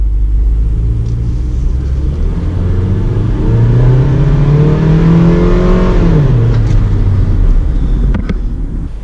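A Honda van in Tokyo accelerates from a standstill to 60 km/h, the close engine drone rising steadily in pitch before dropping at a gear change and continuing as a loud, constant rumble.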